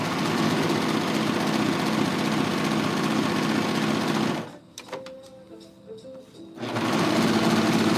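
A sewing machine hems lounge wear pants with a loud, fast, steady mechanical whirr that stops briefly midway, leaving a quieter pause with faint clicks, then starts running again.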